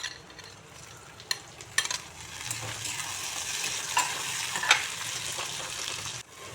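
Chopped tomatoes hit reddened onions frying in a pan for ghugni and are stirred, a loud close sizzle that swells as they are added, with scattered scraping clicks from the utensil.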